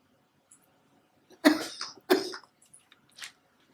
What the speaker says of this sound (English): Like I said, still got a little bit of that cough going